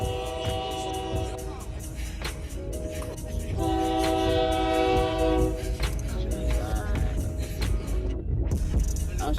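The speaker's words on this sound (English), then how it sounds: "there's a train" A train rumbles past as its horn blares in long sustained tones, loud and close, with rhythmic rail clatter underneath.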